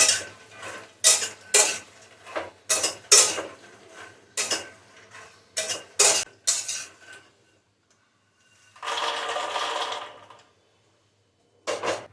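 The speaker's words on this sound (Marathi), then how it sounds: "आता आधी मखाने भाजून घेते" Makhana (fox nuts) roast in ghee in a kadhai over low gas, a run of sharp scraping and rattling strokes of a spoon against the pan, then a longer hissing stir and a pause.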